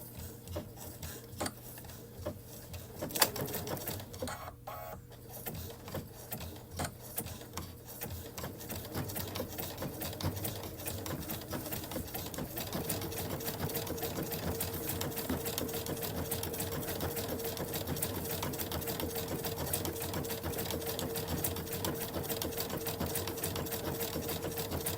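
A sewing machine runs a decorative feather stitch along quilt binding, its steady rapid mechanical chatter starting slow and then settling into a continuous even hum with a brief pause near the start.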